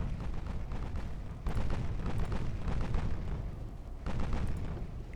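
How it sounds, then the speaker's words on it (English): Starboard torpedoes launch from the ship Hampshire during a naval battle in Ultimate Admiral: Dreadnoughts, a heavy rolling rumble punctuated by two louder booming surges, dense and continuous with no voices. "Starboard torpedoes out from the Hampshire."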